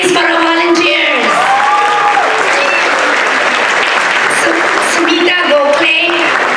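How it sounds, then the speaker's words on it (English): Loud, sustained audience applause with scattered cheers and whoops at a Diwali cultural festival in a high school, clapping steady throughout as voices rise over it near the end. "Can I have a continued round of applause please for our volunteers?"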